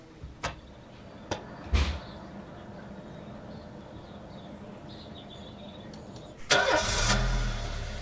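A car engine cranks and catches in the video game This Is the Police, a short burst of starter noise after a few soft knocks and clicks in a quiet scene, fairly faint overall.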